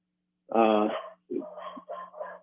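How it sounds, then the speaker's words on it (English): Dogs barking nearby: a loud, drawn-out bark followed by three or four shorter, yelping barks in quick succession. "I got the dogs barking or something"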